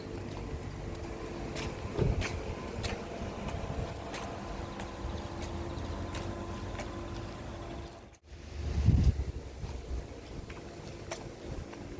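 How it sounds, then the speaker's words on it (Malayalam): Cold wind blowing outdoors in Australia, a steady rushing roar with microphone buffeting, gusting louder in bursts and briefly dropping out before returning, with no voices. "പുറത്ത് നല്ല തണുത്ത് കാറ്റുണ്ട്"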